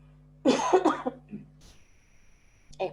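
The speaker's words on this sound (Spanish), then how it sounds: "me quedó como una secuela esta tosecita molesta" A person coughs in a short burst of harsh hacks, then a faint thin whistle lingers before another rough cough begins.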